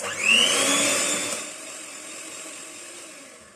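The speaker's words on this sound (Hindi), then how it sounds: "ये चॉकलेट इसमें डाल देंगे और थोड़ा सा इसको बीट कर लेते हैं" Electric hand mixer beating melted chocolate into cookie batter for almond fudge cookies, a steady whirring drone that starts loud and eases to a quieter hum as the motor runs on alone.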